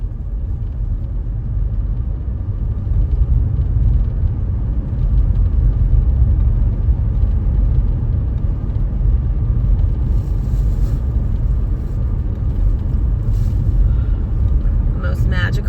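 A car drives along a Florida road toward Epcot at Walt Disney World, a steady low engine rumble and road noise running throughout, with faint clicks and rustles near the end.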